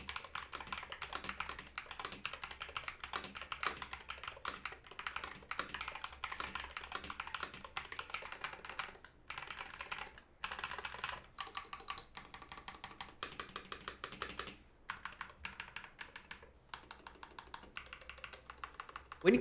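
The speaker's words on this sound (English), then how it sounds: "here is a sound test of this board." Someone types on a MelGeek MADE68 Pro rapid trigger keyboard, producing dense, quick, clacky keystrokes in fast runs with a few brief pauses, recorded close and alone.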